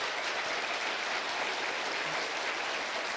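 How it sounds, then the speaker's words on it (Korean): An audience at a religious gathering claps in a steady, continuous wash of applause that sounds broad and fairly distant, holding even throughout with no speech on top. "박수해요."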